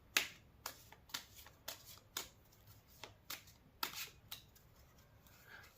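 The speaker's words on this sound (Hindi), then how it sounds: "कार्ड्स निकाल लेती हूँ पहले।" Tarot cards being shuffled and drawn during a Hindi card reading, a series of crisp riffling bursts and snaps recurring roughly every half second, close and fairly quiet with no talking.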